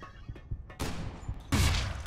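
Gunfire in the video game Loadout, a couple of sharp bursts of shots, close and loud, in a short crackling sequence against low background game noise.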